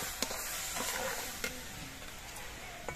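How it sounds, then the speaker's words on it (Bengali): Fried semolina is stirred in a pan after beetroot juice is added, giving a soft, faint sizzle with occasional light scrapes and taps of the spoon and no talk. "এবার এর মধ্যে আমি বিটের যে রসটা করে রেখেছিলাম সেটা দিয়ে দিচ্ছি। রসটা দিয়ে কিন্তু নাড়তে হবে।"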